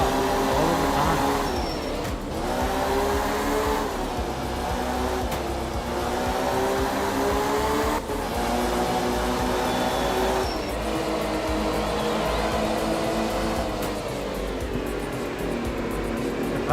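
Rally car engine in the racing game Art of Rally, held at high revs with repeated rising and falling pitch as gears shift, loud and continuous throughout.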